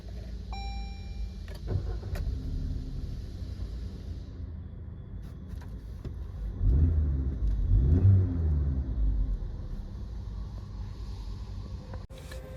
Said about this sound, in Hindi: और आइए वीडियो एंड होने के पहले एक बार कार को स्टार्ट करके देखते हैं।